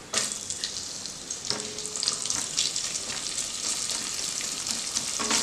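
Onions dropped into hot oil for mild mint rice, a sudden burst of sizzling that settles into a steady, close crackle with occasional stirring scrapes, moderately loud, no voices.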